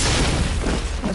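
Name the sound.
grenade explosion, Mass Effect video game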